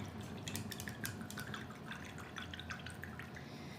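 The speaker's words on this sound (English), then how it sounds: "going to wash the brush" A paintbrush swished and rinsed in water, giving soft, steady dripping and small splashing sounds, faint and close, with no talking.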